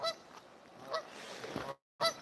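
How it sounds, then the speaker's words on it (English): Geese honking on a late-night walk in Texas, several loud nasal calls in irregular bursts close by, with a short gap of silence before a final honk. "look at these geese"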